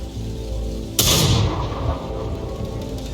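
A Sexton self-propelled artillery gun fires in World of Tanks, one sudden loud boom followed by a rumbling decay over a steady low engine drone.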